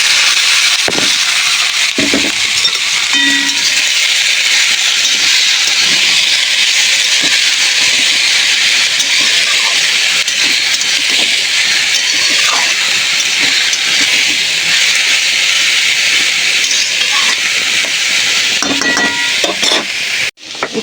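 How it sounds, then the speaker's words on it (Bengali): Thinly sliced bitter gourd frying in hot oil in a wok with dried red chillies and five-spice seeds, a loud continuous hiss throughout with occasional utensil clinks, no talk. "আর এই যে সরু সরু করে কুচিয়ে নিয়েছি উচ্ছেগুলো এবার কড়াইয়ের মধ্যে দিয়ে দেবো"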